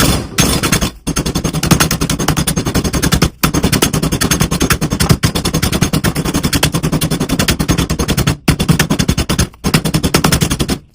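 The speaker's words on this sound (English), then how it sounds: "Then we're going to pound these out flat." Rapid, loud mechanical pounding hammers on continuously in long bursts, separated by a few brief pauses, like a powered tool flattening chicken on a hard counter.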